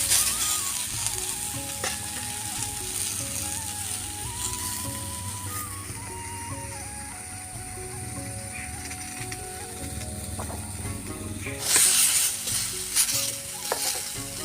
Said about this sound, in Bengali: এইভাবে বারবার নাড়াচাড়া করে ভেজে নিচ্ছি। এখনও আমাদের আলুটা ভালোভাবে ভাজা হবে।